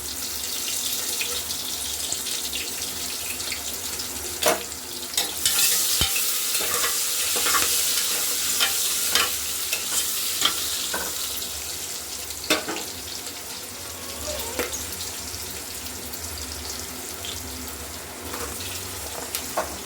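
Onion and green chillies frying for vegetable rice, with stirring and clinking against the pan over a steady sizzle, plus bursts of running tap water nearby; no talking.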